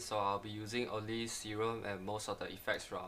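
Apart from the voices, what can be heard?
No distinct noise like a dog, phone or traffic.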